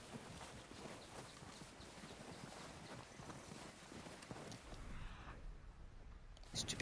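Horse hooves clip-clopping in Red Dead Redemption 2, a faint, steady walking rhythm of hoofbeats under game ambience, thinning out toward the end.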